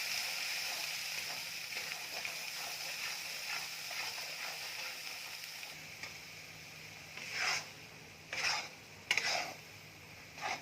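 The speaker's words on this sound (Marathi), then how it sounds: "आता मी वाटण परतून घेणार आहे" Ground masala paste is sautéed in oil in a pan for a masvadi and rassa curry, a soft continuous sizzle with gentle stirring, then several louder scraping strokes of a spoon against the pan.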